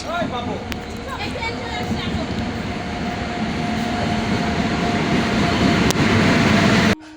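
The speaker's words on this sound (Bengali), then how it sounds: "আর দেখতে দেখতে কিন্তু ট্রেনটা দেখা যাচ্ছে" A train arrives at a railway station, a steady rumble of wheels and engine that slowly grows louder and nearer. Brief voices and platform noise sound over it.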